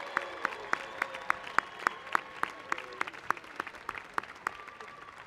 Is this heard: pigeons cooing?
no